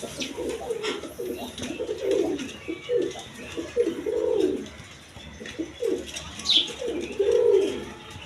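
Pigeons, an Indian breed pair, coo repeatedly in low, throaty rolling calls, close by, with a faint higher chirp now and then and soft background noise.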